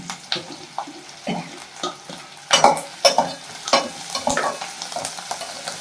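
Chopped goat liver frying and being stirred in a pan, with scraping stirs and crackling sizzle in irregular bursts, fairly close and moderately loud, no talk.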